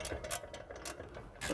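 Ratcheting clicks from a wrench spinning the nut off an upper ball joint during CV axle repair, a quick run of close, crisp pawl ticks with short pauses between bursts.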